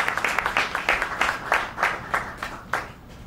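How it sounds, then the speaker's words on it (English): An audience claps through the whole stretch in fairly even, rhythmic bursts, loud and close at first before thinning out near the end. "Please give them a round of applause."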